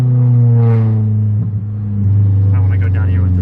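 A Nissan S13 engine revs loud and close, a deep steady rumble swelling at the start, dipping briefly, then climbing again with a rising rasp.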